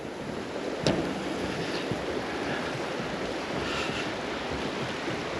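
Wind and rushing river water in Zion make a steady broadband roar outdoors, with one brief knock near the start.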